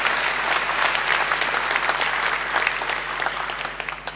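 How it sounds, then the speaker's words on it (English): Audience at a university graduation ceremony applauding, a loud, dense, sustained clapping from a large crowd that thins slightly toward the end. "I think she deserves another great round of applause"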